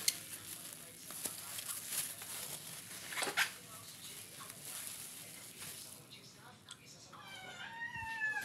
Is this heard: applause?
no